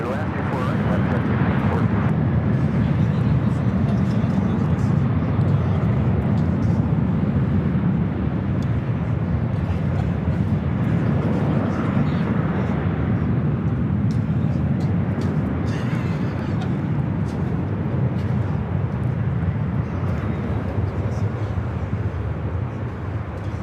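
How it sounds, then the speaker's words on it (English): A Southwest Boeing 737-700 jet airliner, cleared to land on runway 24 right, makes a loud, steady, broadband engine roar that holds for the whole stretch while people talk over it. "This flight heading to St. Louis, 681, 737-700 Southwest."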